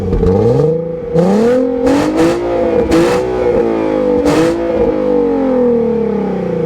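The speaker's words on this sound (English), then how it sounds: "for the naturally aspirated VQ engines, it's had a very distinct exhaust note" An Infiniti G37 sedan's V6 engine with supercharger revs repeatedly, its deep exhaust note rising and falling in throaty bursts, loud and close with no talking.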